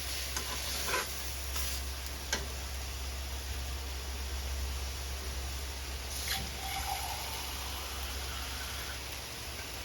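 Fish and water stirred in a frying pan while cooking a Thai fermented-fish mok dish produce a steady, faint bubbling sizzle with a few soft scrapes and clinks.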